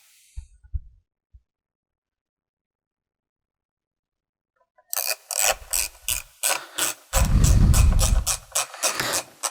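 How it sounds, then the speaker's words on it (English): Bolts are driven back in with a size 4 hex key on a Kawasaki Ninja 1000SX rear seat cover, giving rapid close ratcheting clicks in bursts after a long silence, with a louder rattling stretch midway. "Then we put our 4 bolts back in."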